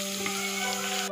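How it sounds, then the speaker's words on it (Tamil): Mutton pieces frying in oil in a pan as the cooking liquid boils away, giving a steady, close, even sizzle with no break and no voices. "இனி நம்ம இனி இருக்கிற அந்த எண்ணெயில் அந்த கறியை வந்து நல்லா ஃப்ரை ஆக விடணும்."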